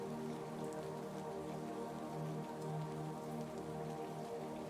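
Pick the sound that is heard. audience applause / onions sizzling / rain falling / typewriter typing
rain falling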